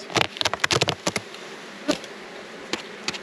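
Bees buzz around an abandoned hive box during a brood inspection, with bursts of close, loud wingbeats and knocks that come and go over a quieter buzzing background.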